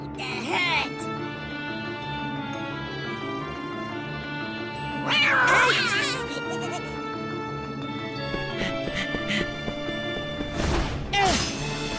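A cartoon cat in Kingdom Hearts Birth by Sleep yowls and meows in three loud bursts amid game music and effects.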